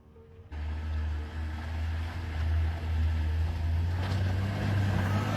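A 4x4 off-road truck engine drones and revs continuously at high load after a sudden start, loud and steady with a deep rumbling tone, rising slightly toward the end.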